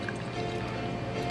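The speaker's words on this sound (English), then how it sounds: "Let's try to do this fucking pour perfectly again." Cameron's Captain's Log lager is poured steadily, giving a continuous, close liquid rush with fizzing and splashing throughout.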